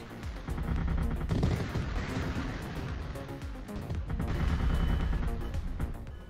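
Video game weapons fire in a dense, continuous barrage of gunfire and explosive blasts lasting several seconds, loud and sustained, with a missile launch amid the chaos.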